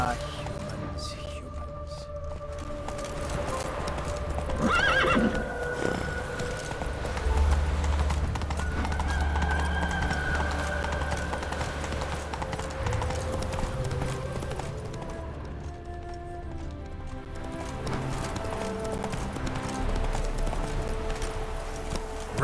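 Roach, Geralt's horse in The Witcher 3: Wild Hunt, gallops with a steady, rapid clip-clop of hooves, set against game ambience and scattered voices.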